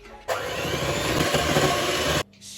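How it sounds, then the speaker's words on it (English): Hand whisk working butter into choux pastry ingredients in a mixing bowl, a steady, loud scraping and whirring that runs continuously for about two seconds, then stops abruptly. "taking a hand whisk, I'm going to combine all the ingredients"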